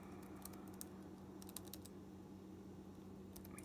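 Light, uneven keystrokes on a computer keyboard while a command is entered at a command-line prompt, small clusters of clicks separated by short pauses over a low background hum, no talking.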